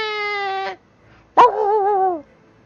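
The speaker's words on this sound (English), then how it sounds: "the barking of a dog" A dog gives two drawn-out, whining barks close by, separated by a short silence, the second rising sharply and wavering before it fades.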